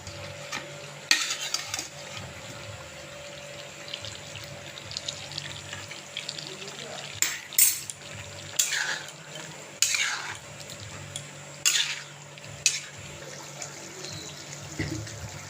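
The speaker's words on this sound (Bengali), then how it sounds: "ফুটছে মাংসটা তো এবার একটু আলুটা দিয়ে দিন" Meat boiling in a cooking pot, heard as a steady bubbling hiss broken by several louder, short bursts of stirring and scraping close by, with no talk.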